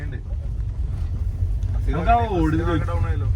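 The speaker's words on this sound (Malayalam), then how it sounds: "അയ്യോ അതാണ് റിസോർട്ടിന്റെ ബോട്ട്" A resort's motorboat engine rumbles low and steady, mixed with wind buffeting the microphone, while a voice starts talking over it partway through.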